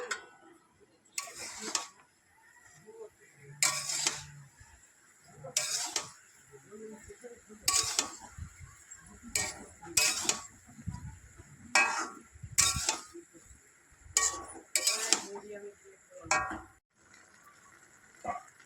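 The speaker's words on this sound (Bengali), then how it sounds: "এবার একটু নেড়ে চেড়ে দেবো।" Taro greens cooking with hilsa fish head in a pot get stirred: a spoon scrapes against the metal in irregular short strokes every second or two, fairly faint, with a soft steady sizzle between strokes.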